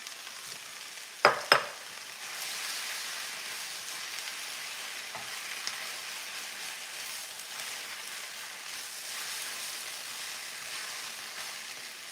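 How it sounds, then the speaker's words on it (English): Sauce is worked into noodles and vegetables frying in a hot pan with ginger and garlic, giving a steady, soft sizzle and hiss, broken early by two sharp clacks of a utensil against the pan. "now we're just working in the sauce into the noodles and the vegetables"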